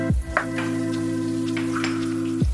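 Crushed ginger frying in hot oil with bay leaf and black peppercorns: a close, steady sizzle with crackling pops and stirring scrapes, over a sustained tonal hum that begins and ends abruptly.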